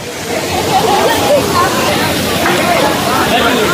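Kapila Theertham waterfall pouring down from the Seshachala hills at Tirumala, a loud, steady rushing roar of falling water with a crowd of people chattering in the background.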